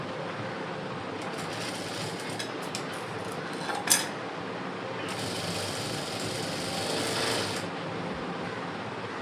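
A sewing machine stitching the lining of a 36-inch blouse runs with a close, steady mechanical rattle, pausing and restarting, with louder bursts of stitching midway.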